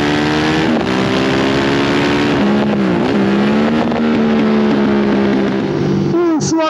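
Bimota DB7 motorcycle engine on a ride, loud and close throughout, holding a steady droning note with a couple of dips and rises in pitch, then a sharp rev climbing near the end.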